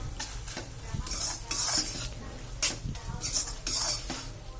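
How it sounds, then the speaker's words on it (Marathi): A spoon scrapes and stirs a Marathi-style carrot vegetable dish in a pan, close rhythmic scraping in repeated strokes over a soft sizzle of cooking oil. "नंतर हे छान हलवून घ्यायचं आहे"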